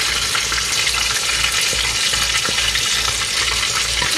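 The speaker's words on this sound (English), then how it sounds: "I have melted bacon grease in here, so now we're gonna add our" Corn sizzles loudly in a pan of melted bacon grease on a stove, a dense, steady crackle that runs throughout with no talking.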